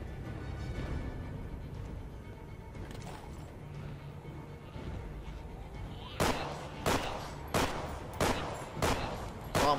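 A quick burst of five sharp pistol shots in The Walking Dead: Survival Instinct Herd Mode, close and loud, coming after several seconds of muffled game ambience.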